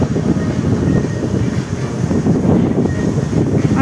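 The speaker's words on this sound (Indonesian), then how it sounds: "Dia ada angin nih, sepoi-sepoi." Steady outdoor wind at a lakeside mall park in Jakarta, a continuous breezy rush buffeting the microphone with gentle swells, with no voices over it.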